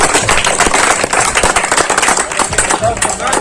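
A school ceremony audience claps hard and fast in a dense, sustained burst of many hands, loud and close, with voices mixed in under the clapping.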